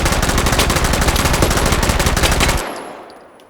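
Submachine gun firing in Battlefield 1, a loud sustained automatic burst of rapid, evenly spaced shots for about two and a half seconds, then cutting off into a short fading echo.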